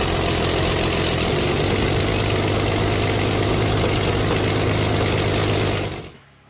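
A 1,000cc V-twin engine on the pre-war British Babs Special runs at a loud, steady, rough rumble with rapid pulsing firing, close by, before cutting off abruptly near the end.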